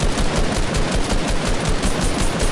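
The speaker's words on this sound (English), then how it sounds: "Who's shooting me?" Continuous rapid automatic gunfire in a video game, a dense unbroken burst of shots at steady loudness with no talking.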